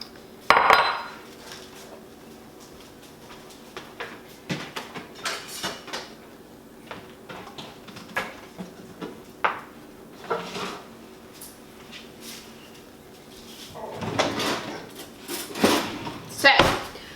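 Dishes and cutlery clatter in a home kitchen as a bowl is taken out, with scattered clinks, knocks and a drawer or cupboard sound, ending in a louder burst of rattling; a voice talks intermittently throughout.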